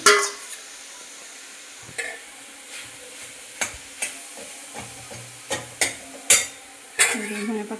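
Potato and vegetable curry frying in a kadai, with spoon stirs scraping the pan in irregular bursts over a soft, steady sizzle, nearby and moderately loud.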